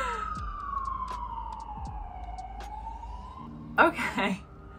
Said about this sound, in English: so we have sirens going past all the time.